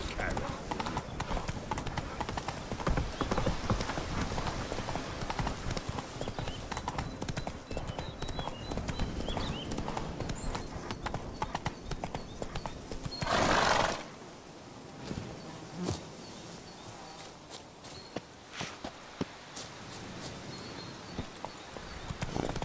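Roach, Geralt's horse in The Witcher 3: Wild Hunt, trots with steady clip-clopping hooves, loud and continuous, under game music and someone talking; a brief louder burst midway, then quieter hoof beats continue.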